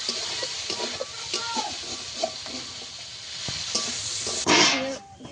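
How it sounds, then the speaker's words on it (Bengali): Ridge gourd peels seasoned with salt and turmeric sizzle in a pan, with repeated spatula scrapes and stirs over a steady frying hiss and a louder burst of sizzle near the end. "ঝিঙের খোসা ভাজার সময় অবশ্যই করে একবার পর নেড়ে দিতে হবে"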